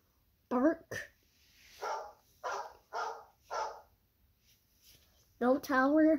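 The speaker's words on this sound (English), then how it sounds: "Bark." A short series of dog barks from a phone ringtone, around five or six, sounding small and slightly synthetic, with brief sounds at the start and end.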